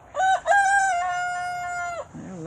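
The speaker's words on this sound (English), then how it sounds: "They're learning how to crow." A young rooster crows in a short, wavering call, rising, holding a long, slightly strained note and then breaking off, followed by a brief lower cluck; close and clear, with no talking.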